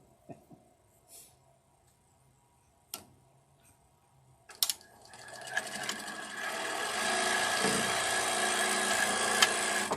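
After a few scattered clicks and taps, a sewing machine starts up and runs steadily, a buzzing mechanical whir that grows and holds for the last several seconds.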